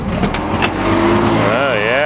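A tired old Chevrolet Monza motor, burning off oil, revs up loudly close by, its engine note climbing and wavering, with people talking over it.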